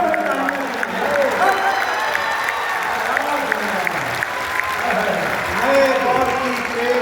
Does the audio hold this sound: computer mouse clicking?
no